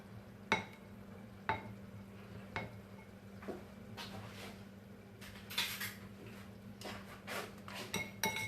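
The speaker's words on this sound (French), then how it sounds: "Et je vais mélanger délicatement tous les ingrédients ensemble" A whisk stirs ricotta and grated cheese filling in a bowl, making soft, repeated clinks and scrapes against the bowl at an irregular pace over a low steady hum.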